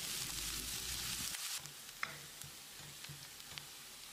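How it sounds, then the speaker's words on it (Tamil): Chopped onions browning in oil in a pan for a mutton gravy, giving a loud steady sizzle that drops away sharply after a second and a half to a quieter crackle with a few soft stirring taps. "வெங்காயத்தை நல்லா பொன்னிறமாக வதக்கிடலாம்."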